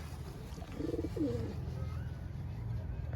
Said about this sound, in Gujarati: જુઓ આપણા બધા કબૂતર